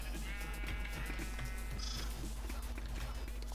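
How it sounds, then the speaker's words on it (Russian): Sheep bleat in a video game, short wavering cries set over a constant low hum and busy game sound effects, fairly faint in the mix. "Овца, овца, ты куда пошла?"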